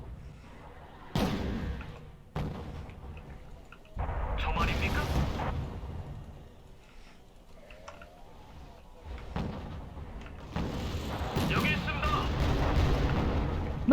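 Artillery fire and explosions from the Wargame: Red Dragon video game come as several heavy booms and rumbling bursts spread across the stretch. Quieter gaps fall between them, and people talk over the battle.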